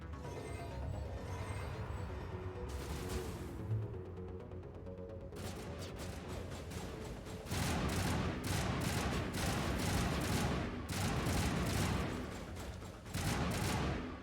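Assault rifle gunfire in Mass Effect 1 Legendary Edition, sustained loud bursts of rapid automatic shots with short pauses between volleys, over a steady game soundscape.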